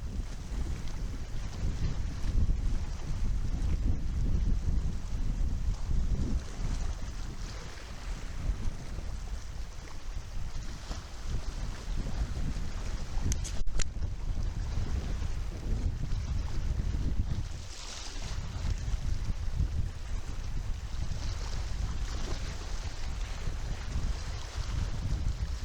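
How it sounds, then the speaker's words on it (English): Stiff wind buffets the microphone steadily throughout while lure fishing for bass from shore over shallow rough ground, with a dull roar of sea and surf beneath and no talking. "I will be casting straight into a stiff breeze"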